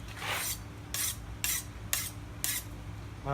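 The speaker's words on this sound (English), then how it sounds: "You can take a file and you should be able to skate across the surface." A file skates across a hardened, oil-quenched knife blade made from an old file, five short rasping strokes in a steady rhythm, up close and quiet, with no speech.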